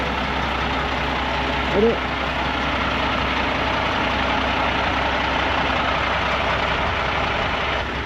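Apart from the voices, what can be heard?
truck passing on Australian outback highway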